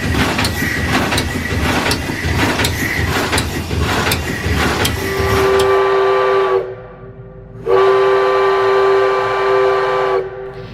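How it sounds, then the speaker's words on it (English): Clanking steam-powered machinery of the steamship Punkaharju rattles steadily, then its loud steam whistle sounds two long toots separated by a brief pause. "With a steam-powered toot, we're underway"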